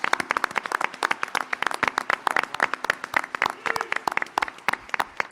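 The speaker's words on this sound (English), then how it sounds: "Come on, big round of applause." Audience applause at the close of a Republican candidate debate for Texas District 34, with many hands clapping steadily and densely at close range for the whole stretch, with no voices over it.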